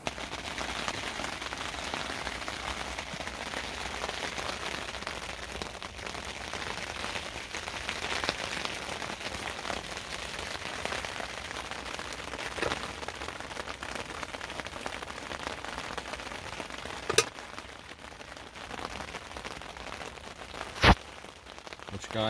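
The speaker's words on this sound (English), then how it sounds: "as you can see and hear, it's raining" Rain pattering steadily on a bivvy at a carp fishing lake, a dense, even hiss of drops on fabric, with a couple of sharper taps near the end.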